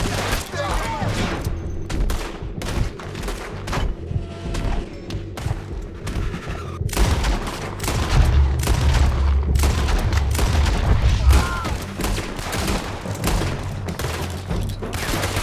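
Gunfire in the Western action game Red Dead Redemption 2, a loud, dense run of sharp shots and booming thuds that crackle on throughout, with shouting voices heard in bursts beneath the firing.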